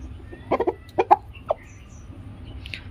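Rooster pecking and clucking while eating mixed feed after two days of poor appetite, a few short close clucks and pecks in quick bursts, then quieter background.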